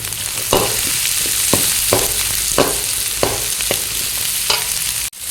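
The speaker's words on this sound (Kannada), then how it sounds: "ಈಗ ಒಂದೆರಡು ಸಣ್ಣದ ಕ್ಯಾಪ್ಸಿಕಮ್ ಕಟ್ ಮಾಡಿ ಇಟ್ಕೊಂಡಿದ್ದೀನಿ ಅದನ್ನು ಹಾಕ್ತೇನೆ ಹಾಕೊಂಡು ಸ್ವಲ್ಪ ಫ್ರೈ ಮಾಡಿ" Chopped capsicum and chillies fry in a pan for bachelor-style egg rice: a loud, steady sizzling hiss with repeated spatula knocks and scrapes at irregular intervals, ending abruptly.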